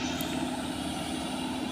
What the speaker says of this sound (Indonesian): sehingga perlahan saja truk Fuso ini melaju